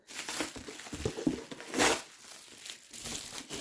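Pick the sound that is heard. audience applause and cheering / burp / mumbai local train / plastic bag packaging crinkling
plastic bag packaging crinkling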